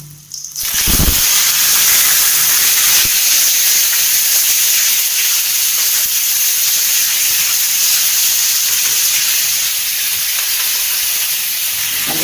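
Chopped tomatoes hit a hot pan with garlic for tomato chutney, bursting into a loud, steady sizzle and hiss right after a brief knock at the start, then frying on continuously up close with no talking.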